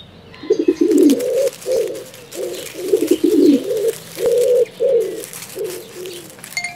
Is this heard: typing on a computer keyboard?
no